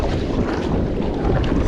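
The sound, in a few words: strong wind on water while kayaking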